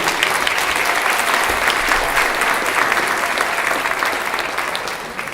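Conference audience applauding to welcome a keynote speaker, a dense, loud wash of many hands clapping continuously, fading slightly toward the end.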